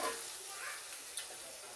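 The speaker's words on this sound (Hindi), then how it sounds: "इसको हम अच्छे से फ्राई करके लेंगे" Fish coated in masala sizzles and fries steadily in a pan over a fast flame, a continuous crackling hiss with a faint stir near the end, no voices.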